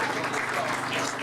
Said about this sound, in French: que je vous demande d'applaudir s'il vous plaît